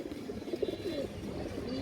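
Soft, low pigeon cooing close by, a few gentle throaty notes over a steady background murmur.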